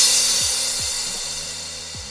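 Layered hardstyle and regular crash cymbal samples wash out as a bright, hissing sustained crash that slowly fades, with low pitched bass notes dropping repeatedly underneath in an electronic track.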